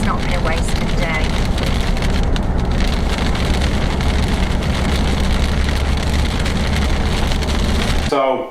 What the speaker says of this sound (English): And here's the rain now, so we did make the right decision.